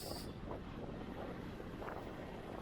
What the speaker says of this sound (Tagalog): Mahangin sa taas.